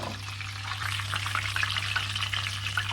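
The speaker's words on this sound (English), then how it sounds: "The mackerel is frying." Mackerel sizzles steadily in hot oil, a close, continuous crackle with scattered pops and a low hum underneath.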